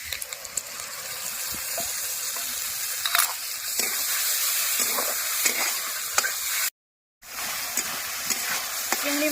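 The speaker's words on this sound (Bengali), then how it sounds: "চিংড়ি মাছ ভাজা হয়ে গেছে এই মিশিয়ে রাখা মশলাগুলো চিংড়ি মাছের উপরে দিয়ে দেবো" Spice paste poured over fried prawns in a hot pan, a loud continuous sizzle with stirring clatter and spattering bursts, broken by a brief gap.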